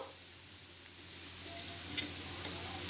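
Coriander frying in a pan while being stirred, cooked for a palya and sambar: a steady, close sizzle with faint scraping, continuous and even throughout, with no voices.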